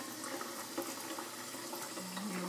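Water runs from a kitchen sink tap in a steady, close hiss and splash, continuous and unbroken throughout.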